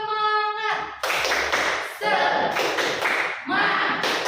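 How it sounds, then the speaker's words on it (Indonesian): A classroom of students performing a rhythmic spirit clap during a teaching practice lesson, loud bursts of group clapping in repeated patterned phrases, with a sustained voice at the start and chanting voices mixed in. "Tepuk semangat."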